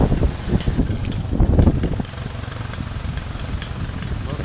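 Motorcycle taxi riding a very narrow rainforest trail toward Lake Maragang, its small engine droning low and steady beneath wind rush and bumpy handling noise, with faint voices mixed in.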